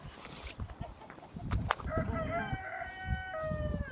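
A rooster crows a long, drawn-out call over background rustling and noise, moderately close and clearly audible.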